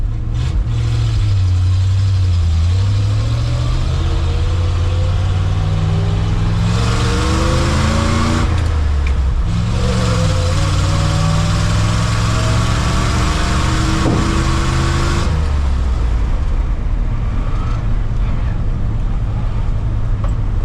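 A 1968 Ford dump truck with a freshly repaired carburetor, out on a test drive: the engine sounds loud and close, revving up and dropping back through repeated gear changes, with no talking.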